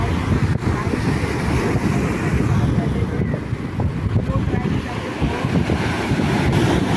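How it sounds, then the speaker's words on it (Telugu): Large ocean waves breaking at Dadar beach in Mumbai, a continuous roaring surf wash heavily mixed with gusty wind buffeting the microphone, loud and unbroken throughout. "అలలు అయితే చాలా పెద్ద ఎత్తున వచ్చేస్తున్నాయి."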